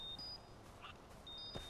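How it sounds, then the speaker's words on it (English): Electronic beeps from the video game Far Cry 4 sound in short high tones, a pair near the start and another pair near the end, faint over a soft game background hum. "The beeping's making a cool beat, though."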